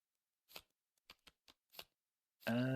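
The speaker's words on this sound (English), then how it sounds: "Shuffle, shuffle, shuffle." A deck of playing cards being shuffled for a board game: about six short, crisp riffles and snaps spaced irregularly, close and quiet, followed by the start of a voice.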